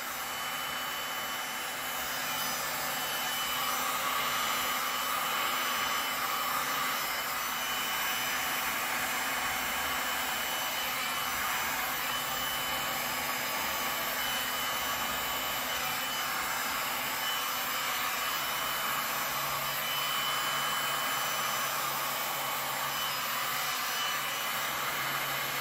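A heat tool blows a steady, loud rushing hiss onto resin poured over a geode sculpture, running continuously without pause or voices.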